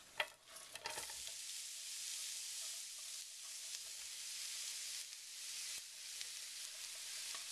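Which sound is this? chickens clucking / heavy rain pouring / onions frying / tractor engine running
onions frying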